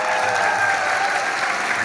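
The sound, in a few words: audience applause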